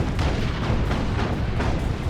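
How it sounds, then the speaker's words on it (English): Manticore artillery strike in the Warhammer 40,000 game Dawn of War 2, heard as a dense run of booming impacts and blasts that rumble loud and close with no pause. "and there's a Manticore strike."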